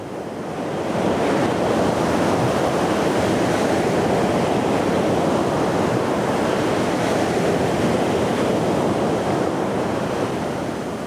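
Steady ocean surf washing continuously off the coast of Bali, loud and close with broad roaring noise and some wind buffeting, no voices.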